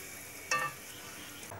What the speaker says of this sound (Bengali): এখানে চলছে ফুলকো ফুলকো লুচি ভাজা